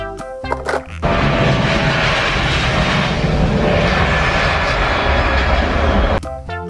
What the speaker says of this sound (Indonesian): ada pesawat terbang Airbus